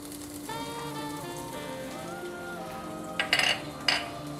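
Mustard seeds and chopped ginger crackle and sizzle in hot oil in a home kitchen, a steady frying hiss with a faint tonal hum and a couple of sharper bursts of spattering near the end.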